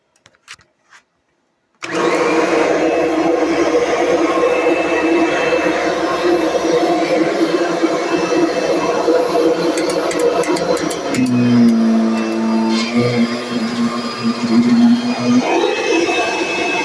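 A Kirby vacuum cleaner whirs loud and steady after a quiet start, its motor pitch dropping and wavering through the middle as the load changes, then rising back near the end.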